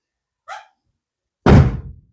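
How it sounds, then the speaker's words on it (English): Door of a first-generation Mazda Miata NA shutting, a brief faint click followed by a single solid, loud thunk that decays quickly, close to the car. "Door closed."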